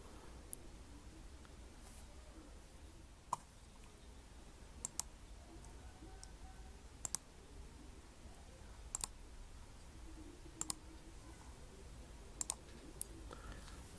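Computer mouse clicks while marking vertices of a location map in Google Earth Pro, heard as about a dozen sharp, faint single and double clicks spaced irregularly over a quiet background.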